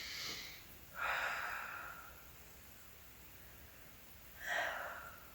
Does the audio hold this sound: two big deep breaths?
yes